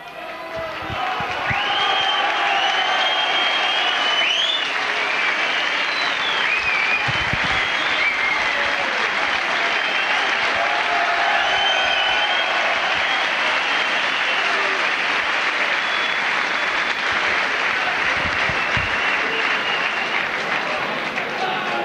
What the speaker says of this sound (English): The big round of applause you can hear is because Chris Arkwright, the big local favourite here at St Helens, coming onto the field